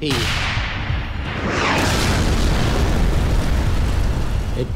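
Tank cannon fire with an armour-piercing round striking an enemy tank in wartime Italy: a loud blast opening into a sustained, rumbling roar with broadband debris noise that stays heavy to the end, no voices.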